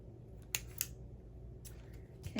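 Scissors bought at Joann's snipping through craft material, a few quick sharp cuts close up in a quiet room, with no talk.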